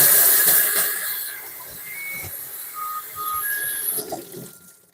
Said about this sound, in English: All right, let me wash my hands.